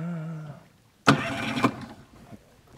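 Fishing boat motor cranked once while the boat is out on the water, a sudden sputtering burst that dies back down after about a second, with a brief voice heard before it.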